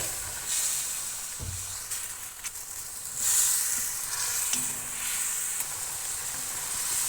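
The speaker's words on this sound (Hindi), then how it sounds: "फिर से हम इसको अच्छे से फ्राई करेंगे अदरक लहसुन के पेस्ट के साथ" Chicken frying with ginger garlic paste for a Shinwari karahi, sizzling steadily in a pan at moderate volume with occasional stirring clinks and scrapes and no talking.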